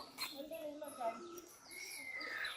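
Caged birds kept at Udayagiri Fort in Kanyakumari chirp and call faintly in a quiet outdoor setting, with thin tweets and bright whistles scattered through the moment.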